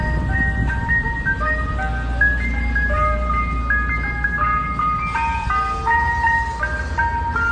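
An ice cream truck plays its jingle outdoors, a bright tinkling electronic melody of quick repeating notes over a low idling engine rumble, steady and fairly close.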